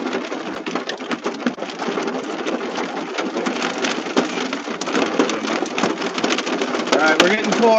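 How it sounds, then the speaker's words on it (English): Hail pelting surfaces during a severe-warned night storm in Minneapolis, Kansas: a dense, steady rattle of many small impacts that builds slightly louder toward the end, with someone talking over it. "got some hail"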